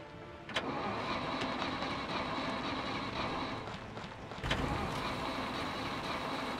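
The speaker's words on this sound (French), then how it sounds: "Là vous allez voir que le véhicule va pouvoir redémarrer." In the video game SCUM, a vehicle engine cranks and restarts, a quiet steady mid-pitched mechanical rumble with a brief catch early on and a second surge near the end.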